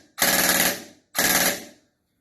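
An Aztech Innov gel blaster with a heavy reciprocating bolt fires two loud, close full-auto bursts of rapid mechanical cycling, the first about half a second long and the second a little shorter, with silence between and after.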